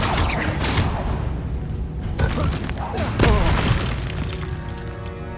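A Confringo blasting spell goes off in Hogwarts Legacy combat: loud booming bursts with crackling, shattering debris over a dense wash of battle noise and music, including a sharp blast near the middle.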